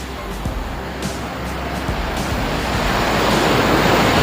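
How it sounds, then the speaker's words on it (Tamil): Ocean waves surge and wash ashore at Elliot's Beach in Chennai, a steady broadband roar of surf that builds slightly louder over a few seconds, with wind buffeting the microphone. "இந்த அலை வருது பாருங்கள்"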